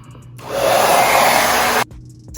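A hair dryer blows on type 4 natural hair set in flexi rods, switching on with a loud steady whoosh for over a second before cutting off abruptly, close up.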